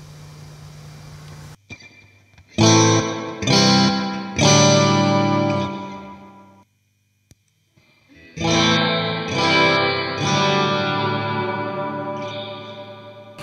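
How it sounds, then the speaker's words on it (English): Electric guitar chords through a Mosky spring reverb pedal and an EHX Holy Grail Nano reverb, drenched in heavy reverb and echo, ringing out in loud bursts with long washy tails, a brief pause, then more strummed chords. "Really much longer delay on a much longer reverb on the Holy Grail."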